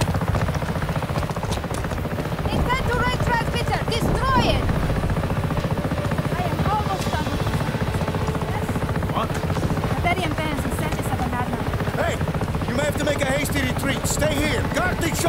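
A helicopter in Just Cause 3 drones steadily with loud rotor chop throughout, while game characters talk and shout over it.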